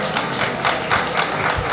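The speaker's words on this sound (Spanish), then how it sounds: "les damos un fuerte aplauso" Audience applause at a health department presentation, a short burst of many hands clapping together, steady and fairly loud throughout.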